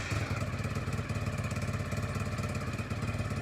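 A Lifan KP200 motorcycle fitted with a modified exhaust starts up and settles into a steady, close, low throbbing rumble with a fast regular pulse, running alone without talk.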